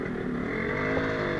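A Yamaha RXZ two-stroke motorcycle, partway through a rebuild, runs with a steady continuous engine drone, close and fairly loud, with no talk.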